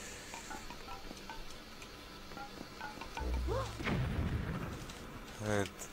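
Bomb explosions in the video game The Legend of Zelda: The Wind Waker, two or three deep booming blasts after a quiet stretch of game ambience, fairly faint overall.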